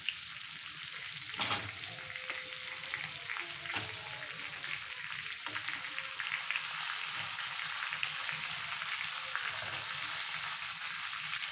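Potato, carrot, papaya and beans sizzle steadily in hot oil for a chicken stew, a continuous close frying hiss with a sharp clatter early on and occasional stirring scrapes, no voices.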